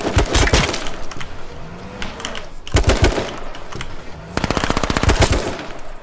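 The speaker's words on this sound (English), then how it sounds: "I just shoot him through the tree" Loud bursts of automatic gunfire from the battle royale game H1Z1: King of the Kill, three close rapid volleys separated by short gaps.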